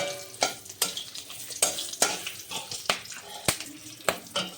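Slit green chillies hitting hot mustard oil with whole spices, a bright crackling sizzle punctuated by sharp repeated spoon taps against the pan at a steady rhythm.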